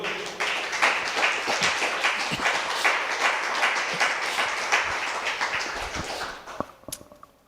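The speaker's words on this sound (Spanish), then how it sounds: "Aplauso a nuestro Dios." Congregation applauding during a church service, dense continuous clapping at steady loudness that thins out and fades near the end with a few scattered late claps.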